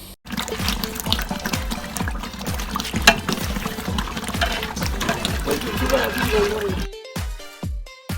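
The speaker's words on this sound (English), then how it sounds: "We're gonna add in our water and then the beef stock." Water poured into a cooking pot over a street cook-up, a steady continuous splash and trickle close by, with a clattering rhythmic background throughout before it thins to a few sharp knocks near the end.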